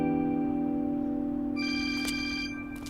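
A phone rings with a steady electronic ringtone, sustained and fairly clear, joined by brighter repeating chirps near the end, with no talking.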